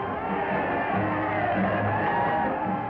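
A Toronto hockey crowd cheers after a goal in an old newsreel, a steady, dense roar of many voices at even loudness throughout, slightly muffled and narrow in tone.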